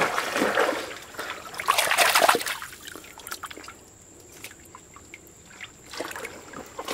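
Water splashes and trickles over a fossilized shark tooth as it is rinsed of mud outdoors, a loud rushing burst at first, then quieter dribbles and drips close by, no talking.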